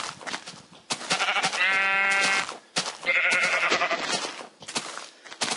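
Sheep bleating in the video game Minecraft, two drawn-out bleats rising above a soft background, with no talk.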